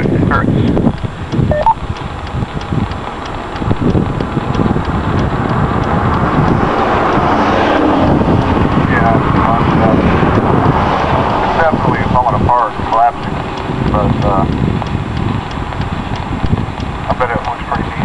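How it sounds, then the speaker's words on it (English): Wind blowing outdoors during a severe thunderstorm warning in southeast Madison County, Alabama, roaring as a steady, close rush of buffeting gusts across the whole clip, with voices faintly underneath. "the wind is starting to get cooler as it blows out this way"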